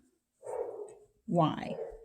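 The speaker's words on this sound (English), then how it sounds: "And now my dog has seen one of our neighbor dogs that's outside." A pet dog at home gives two separate barks or yowls, close and fairly loud, reacting to a neighbour's puppy outside, with nothing else heard between them.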